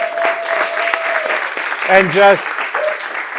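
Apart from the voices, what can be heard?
audience applause for a speaker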